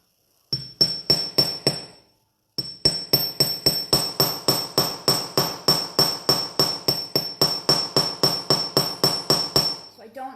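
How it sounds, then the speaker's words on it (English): Hand-hammer blows land on metal stock in an even, ringing rhythm: a short run of strikes, a brief pause, then about two dozen more sharp metallic hits, close and distinct. "revisit your hammer stroke"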